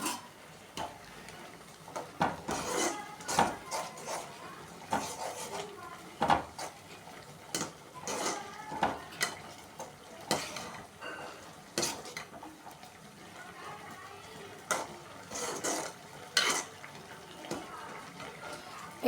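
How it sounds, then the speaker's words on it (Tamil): Maggi noodles with vegetables are stirred in a pan, a spatula clinking and scraping against the metal in irregular, fairly quiet bursts over a low background, with some faint speech. "இது அப்படியே கொஞ்சம் கிளறி விட்டுக்கலாமா?"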